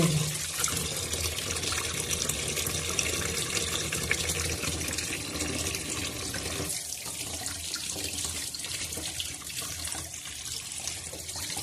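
Steady running tap water splashing into a sink as mackerel (bangda) fish are rinsed beneath it, close and continuous with no talking.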